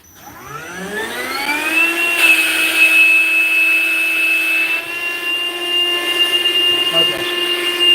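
A cordless air inflator starts up with a rising whine that settles into a steady, loud, close motor hum.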